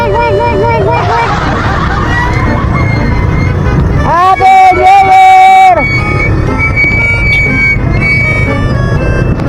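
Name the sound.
street traffic on New Year's Eve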